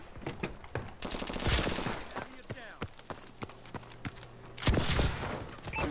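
Rapid gunfire from a rebel gun in a video game, with sharp repeated shots and short bursts over game noise. A voice talks through parts of it.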